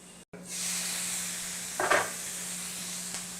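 Steak sizzles in a covered skillet with a steady, close frying hiss that starts after a brief gap, then swells into a short burst of louder crackle near the middle before settling back.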